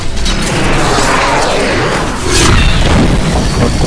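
An explosion in the video game Diablo III rumbles as a loud, sustained low boom with crashing debris, swelling again halfway through and filling the whole few seconds without speech.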